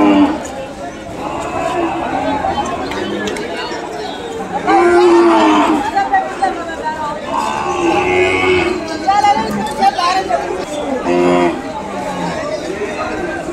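Ongole cattle and calves at the Kodada livestock market low and moo repeatedly, some calls near and loud, over a constant murmur of crowd chatter and nearby talking.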